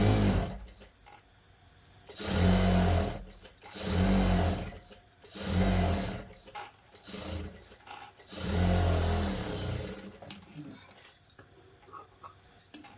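A sewing machine stitches the lining of a blouse's puff sleeve in several rhythmic bursts of close mechanical whirring, separated by short pauses and handling sounds.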